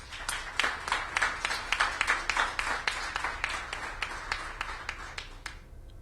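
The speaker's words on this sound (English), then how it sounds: "Let's give them a round of applause." A small gathering at a DC Main Street corridor announcement gives a round of applause, sparse and fairly distinct hand claps in a loose rhythm that stop abruptly near the end.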